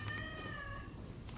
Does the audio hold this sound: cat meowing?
yes